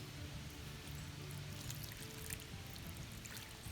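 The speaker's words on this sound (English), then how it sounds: "so we're going to put in a little more water." More water is poured slowly onto dry concrete mix packed in a flower pot, giving a soft, steady trickle and gurgle that stays fairly quiet and continuous, with no talking.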